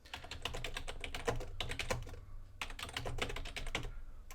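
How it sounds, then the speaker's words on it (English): Rapid typing on a computer keyboard, with dense clusters of key clicks in bursts and a short pause midway, close and fairly quiet with no talk. "Let me type this down here while I'm thinking of it."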